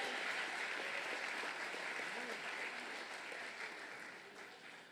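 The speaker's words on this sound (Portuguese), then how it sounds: "Você consegue aplaudir ao Senhor pela sua palavra agora?" A church congregation claps steadily in a large room, the applause holding fairly even and then gradually tapering off.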